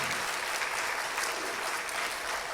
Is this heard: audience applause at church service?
yes